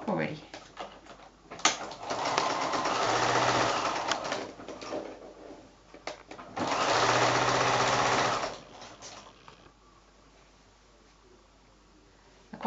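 A sewing machine joining five-inch squares into a quilt block: two loud, steady runs of close motor whirring and stitching, each a couple of seconds long, separated by quieter handling noises, with speech around them.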